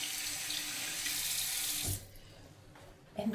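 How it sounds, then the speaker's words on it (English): A running tap at a hotel sink inside a converted jumbo jet while hands are washed, a steady hiss of water that stops abruptly, followed by quiet and a small clatter at the end. "let me just wash my hands."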